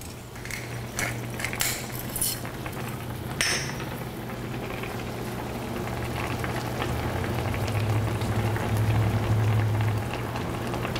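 Canh chua sauce reducing in a pot, a continuous soft bubbling simmer with a low steady hum underneath and a few light metallic taps early on.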